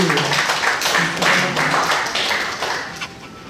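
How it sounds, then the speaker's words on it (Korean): Members of a church congregation at a Sunday service for the deaf applaud together, a dense, steady patter of hand claps that fades slightly toward the end, with no one speaking over it. "모두 한번 박수"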